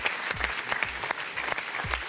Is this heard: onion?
no